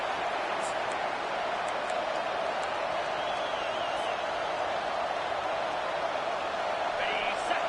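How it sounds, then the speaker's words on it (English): Football stadium crowd at a Fighting Irish game roaring continuously, a dense, sustained wash of noise with no letup. "This crowd, full throat, splitting the eardrums"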